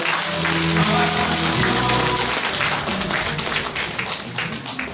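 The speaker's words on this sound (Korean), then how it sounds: "큰 박수 부탁드리겠습니다." Audience applause at a year-end evening gathering of a regional disabled persons' association, a broad rain-like wash of many hands clapping, loud and sustained, with some background voices mixed in.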